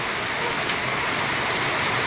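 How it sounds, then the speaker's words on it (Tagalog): Steady rain pours down over an outdoor fishpond, a dense, even hiss of drops on water and surfaces that holds constant throughout with no voices. "Tapos pagising ko, ayan na, umuulan na raw"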